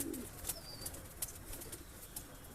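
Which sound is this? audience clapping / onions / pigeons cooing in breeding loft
pigeons cooing in breeding loft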